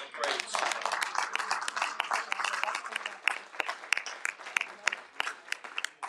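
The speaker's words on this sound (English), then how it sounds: "Give God a hand clap of praise." Church congregation clapping in praise, a sustained dense patter of many hands with sharper individual claps standing out, fairly distant, with voices mixed in underneath.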